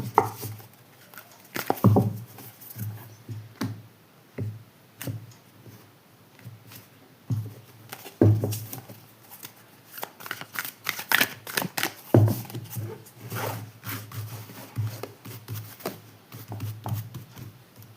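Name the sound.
tarot cards being shuffled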